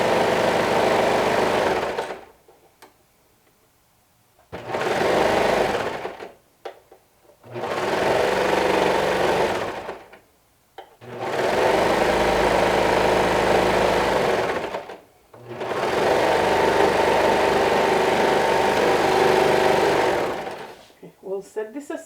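Sewing machine stitching a garment seam in the round with a half-inch allowance, running in four sustained bursts separated by short pauses, loud and close.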